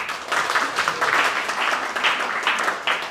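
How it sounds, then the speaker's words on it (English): Audience clapping at a talk on inclusive and diverse teams, a modest crowd applauding in uneven pulses of moderate loudness throughout, with no voices. "So let's give them a little clap"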